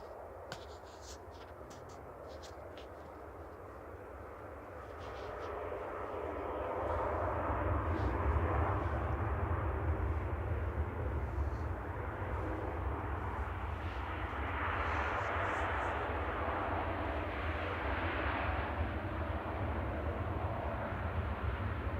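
Jet airliner on Flight 157 from the Caribbean touching down on the runway at Manchester Airport, a broad steady engine roar that swells after the first few seconds and holds loud throughout.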